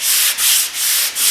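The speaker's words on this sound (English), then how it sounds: "the last thing I like to do is come back with a hand sander" Hand sanding seamed wood veneer: close, steady abrasive rubbing in long back-and-forth strokes, with brief dips in loudness between passes and no voices.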